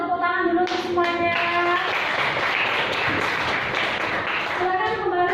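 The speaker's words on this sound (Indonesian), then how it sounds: "tepuk tangan dulu untuk semuanya" Schoolchildren clap together in a classroom at the end of a lesson, a burst of busy, overlapping claps in the middle, with a teacher's voice talking before and after it.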